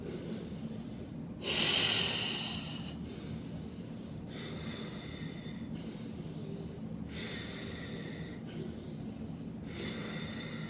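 Forceful, rhythmic breaths drawn in and pushed out through the nose in a heat-building yoga breathing exercise, about six breathy bursts each lasting around a second, close and clear over a steady low background hum.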